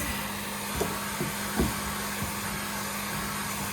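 A vacuum with a brush attachment cleans dust from a Whirlpool refrigerator grate, making a steady, loud suction roar with a few soft knocks as the brush touches the grate; no talk.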